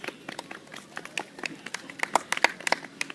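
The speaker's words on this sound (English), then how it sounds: "We'll start with 3 balls, which should garner a polite round of golf applause." A polite round of applause from a Renaissance festival crowd watching a juggler on a unicycle, scattered light claps with uneven rhythm, moderately close.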